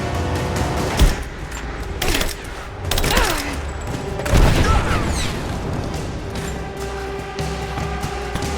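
Gunfire in the video game Rise of the Tomb Raider: heavy bursts of shots and booming impacts come in waves over a constant rumbling battle background.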